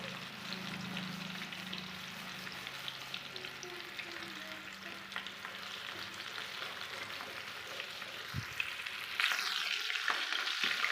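Pieces of KFC-style chicken fry steadily in hot oil, a dense continuous sizzle with occasional bubbling pops and a brief louder burst near the end, close up with no voices.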